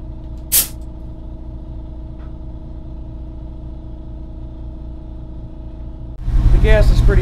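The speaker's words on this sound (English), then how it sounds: "let me get the air hooked up to this truck" Air suspension on a truck being aired up: a steady mechanical hum runs throughout, with a short sharp hiss of air near the start and a louder rush of air at the end.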